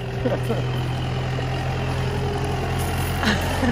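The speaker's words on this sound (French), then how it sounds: "voilà le tracteur" A tractor engine runs on an estate in the Bourbonnais, a loud, steady low droning idle that holds without a break, close by.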